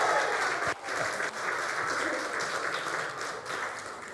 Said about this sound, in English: If I get this to you, I want a round of applause